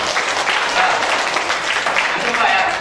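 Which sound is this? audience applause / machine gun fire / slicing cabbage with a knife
audience applause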